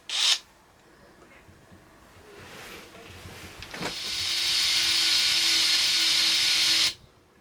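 A power drill bites into thin aluminium skin about 1.5 mm thick with wood behind it: a brief whir, a quieter lead-in, then a loud, steady high-pitched drilling whine for about three seconds that stops abruptly.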